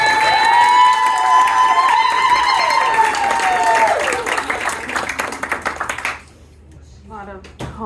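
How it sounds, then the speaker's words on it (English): Audience at a comedy show claps and cheers while a host speaks over it, loud hooting and clapping tapering into scattered claps before a quieter voice takes over. "Clap, clap it up for Emily"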